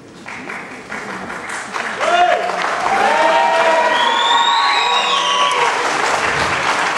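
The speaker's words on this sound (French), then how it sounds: "Vous croyez vraiment que ça mérite de tels applaudissements?" A crowd at the Miss Rouen 2015 beauty pageant breaks into applause that swells and holds loud and steady, with cheering, whistles and voices mixed into the roar.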